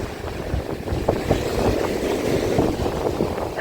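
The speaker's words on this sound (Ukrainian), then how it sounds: "Такі хвилі." Rough sea waves breaking on a windy shore at Lanzheron beach in Odesa, a continuous loud roar and wash with steady wind noise and no clear breaks between surges.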